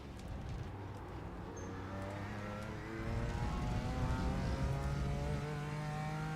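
A BMW M4 GT4 race car engine in iRacing at Road America drones steadily at mid revs, then rises in pitch and volume partway through as it accelerates, fairly faint and with no talk.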